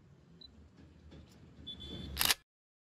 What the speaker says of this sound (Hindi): बट मैं एक फोटो क्लिक कर रहा हूँ